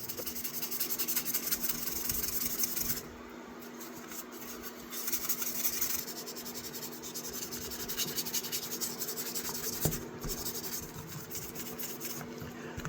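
Hand sanding of a vintage electrician's knife blade with 1000-grit abrasive: a steady, fine scratchy rubbing that runs through the clip with short pauses between strokes, fairly quiet, with a faint constant hum underneath and no talking.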